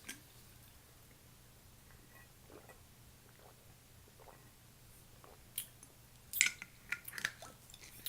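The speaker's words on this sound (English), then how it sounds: "Now you're trying to chew fast to get the heat out." Chewing cheesy nuclear ramen noodles and dumplings close to the mic, with soft wet mouth sounds that grow louder and denser toward the end over a low steady hum.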